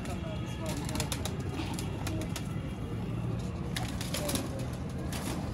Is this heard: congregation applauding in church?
no